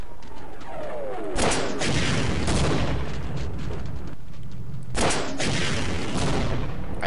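Video game gunfire from Half-Life pounds at a tank in dense, continuous volleys with heavy booming impacts, all loud and close with no pause.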